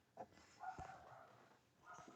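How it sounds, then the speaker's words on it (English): A dog barks a few times at middle distance in a workshop, with short sharp yelps rising over a quiet room hum. "There goes the dog."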